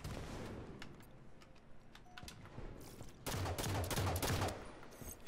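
Rapid bursts of video game gunfire crackle across the clip, a volley of repeated shots from automatic weapons that becomes denser and louder in the second half.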